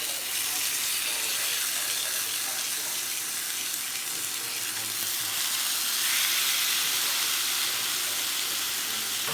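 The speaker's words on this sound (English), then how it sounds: "I'm going to put these pork chops in, and they are going to sear, and you'll hear oil." Pork chops searing in hot oil in a cast iron skillet give a steady, dense sizzle that hisses evenly throughout without pause.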